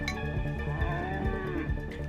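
A cow in the video game Milkmaid of the Milky Way gives a long drawn-out moo, a single steady bovine call sounding clear and close with no talking.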